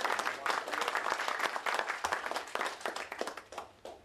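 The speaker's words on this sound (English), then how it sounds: "let's give them a nice round of applause" Audience applause after a speaker invites a round of clapping, dense steady handclaps throughout, moderately loud and fairly close, tapering slightly near the end.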